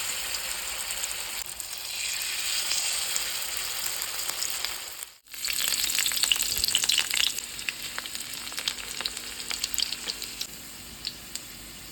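Bamboo shoots fry in a pan for an Assamese home lunch, a steady broadband sizzle with crackling pops that briefly cuts out near the middle, then resumes louder with denser spattering.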